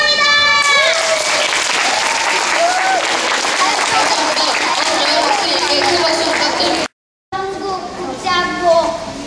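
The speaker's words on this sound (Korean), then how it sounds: "박수, 큰 박수" A dense burst of applause from a young audience follows a student's speech about a Korean holiday, with cheering children's voices over steady clapping that briefly cuts out before resuming.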